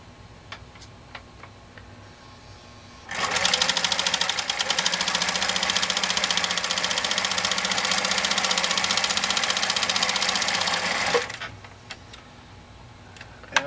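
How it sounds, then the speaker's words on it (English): A Husqvarna Viking Model 21 sewing machine runs a zigzag stitch through six layers of thick upholstery vinyl, a loud, steady rapid ticking hum lasting about eight seconds, starting and stopping abruptly against a quiet room. "demonstrate just how beautifully this Model 21 can sew through material as thick as this"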